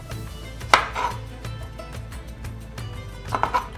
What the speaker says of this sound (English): now I'm going to go ahead and start coring our aubergines